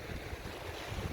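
Sea waves wash onto a beach at Kirkcaldy-Dysart, a soft, continuous rushing surf mixed with wind buffeting the microphone, steady and fairly faint with no voices.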